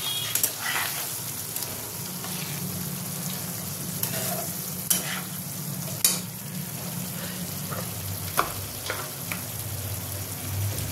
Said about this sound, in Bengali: বাটার দিয়ে একটু নাড়বো।